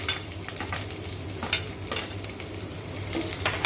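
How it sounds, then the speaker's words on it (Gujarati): Green chilies and curry leaves sauté in hot ghee with cumin seeds, making a steady, close sizzle with a few scraping stirs of a spoon against the pan. "મરચાં અને લીમડાને સાતરશું"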